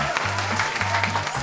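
Applause from a studio audience on a Singapore entertainment show after a KPOP singer's challenge, steady and moderately loud clapping throughout, with a low hum underneath.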